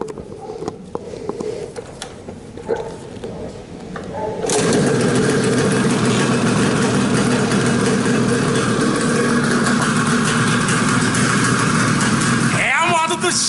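A few clunks and scrapes, then a 350 two-stroke motorcycle engine fires up and settles into a loud, steady idle that runs on for several seconds.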